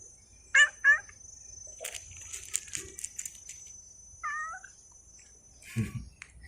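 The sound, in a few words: stray cat meowing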